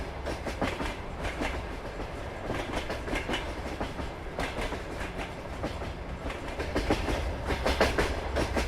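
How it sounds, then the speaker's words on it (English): A long freight train with many wagons rolls by in Farming Simulator 22, a steady loud rumble with rhythmic clickety-clack of wheels over rail joints, growing slightly louder toward the end, with no talking. "this is the only map that actually sounds like a proper train with the noise"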